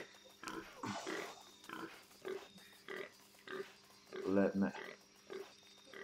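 Pigs grunting and oinking in Shadow of the Tomb Raider, several short nasal grunts in a loose rhythm, with a louder burst near the end, while someone talks over them.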